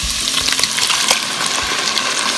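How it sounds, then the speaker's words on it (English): Canned tomatoes stirred into a pot of BLT soup over medium-high heat make a loud, dense bubbling sizzle with soft scraping stir strokes close by. "Stir that up."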